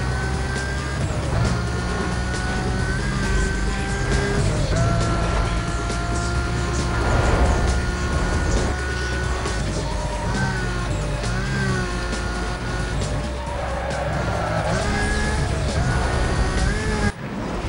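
A car racing in Need For Speed: Most Wanted keeps a loud engine drone going without a break, its pitch climbing and falling with the gear shifts and corners, all under a busy game soundtrack.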